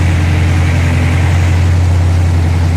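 A car engine runs steadily on a chassis dyno, the engine fitted with a hydraulic roller cam. It gives a loud, constant low rumble with a strong deep hum throughout and no talking.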